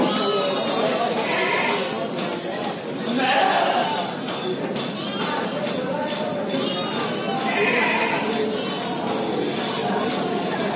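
Kacang goats, including females, bleat repeatedly at an Indonesian goat market, a few loud calls rising over the steady murmur of a crowd and people talking nearby.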